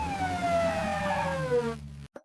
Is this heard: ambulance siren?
yes